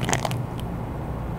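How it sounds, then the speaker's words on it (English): Hardened slime being bitten or crushed off a skewer, giving a few sharp, close crunches and crackles at the start and then fading to quiet. "I think it's gonna have a really good crunch."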